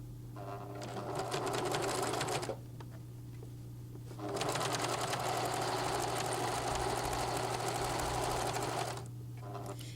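A sewing machine stitches across a folded seam allowance on a sun dress, running in a steady loud whir, pausing for about two seconds, then running again before stopping, with a constant low hum underneath.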